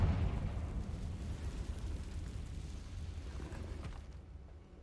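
A Confringo blasting spell detonates in Hogwarts Legacy inside a ruined cave chamber, a heavy rumbling explosion that starts loud and booming, then rolls and fades slowly over several seconds with no talk.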